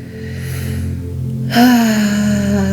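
A slow, deep breath drawn in and let out during a seated guided relaxation, a close, loud airy inhale followed by a voiced exhale with a tonal hum beneath it.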